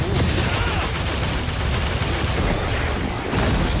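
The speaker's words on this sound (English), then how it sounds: "Big explosion." A big in-game explosion in Monster Hunter Wilds, a dense, loud roaring blast of rumbling noise that fills the whole stretch without letup.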